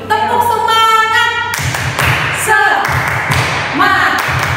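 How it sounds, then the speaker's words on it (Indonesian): Children at a Sunday school service clap a rhythmic spirit chant, sharp patterned claps in a steady beat, with singing voices heard over them at the start. "Tepuk semangat."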